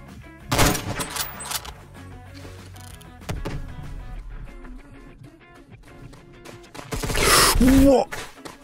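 Sniper rifle fire in the Roblox shooter Phantom Forces, a couple of loud sharp cracks separated by quieter stretches of game noise and ambient sound, with a player speaking between the shots.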